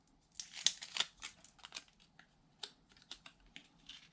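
A paper sticker for card making is peeled back from its backing in a few short crinkling, tearing bursts with light clicks, faint and close, no talk.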